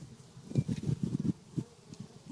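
Honeybees buzz around an open hive during an inspection, a low droning hum that swells and fades in short uneven bursts as bees pass close, with no voices.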